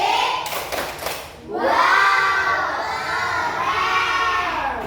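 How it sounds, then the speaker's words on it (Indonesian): Classroom children clap in rhythm and then shout the chant together loudly and near, a brief burst of claps followed by a sustained chorus of young voices. "Mari kita apresiasi hasil belajar kalian dengan tepuk wow."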